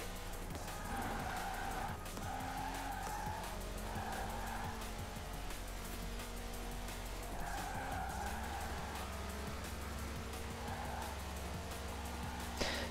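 A car drifts in the Forza Horizon 4 racing game, tires squealing and skidding in sustained wavering screeches over a steady engine drone, continuous and moderately loud without talk.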